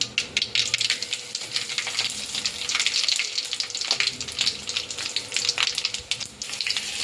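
Mustard seeds, dried red chilies and curry leaves fry in hot oil for rasam, giving a loud, steady hissing sizzle broken by crackling pops, close and with no voices.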